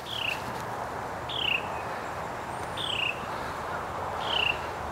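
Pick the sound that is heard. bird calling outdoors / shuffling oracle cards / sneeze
bird calling outdoors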